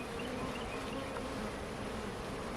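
Honey bees buzz steadily during a first hive inspection, a dense close hum from many insects around a heavy hive, with no talking.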